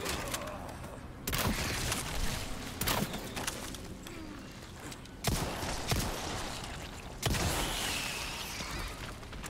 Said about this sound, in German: Drei Schuss mit dem Punisher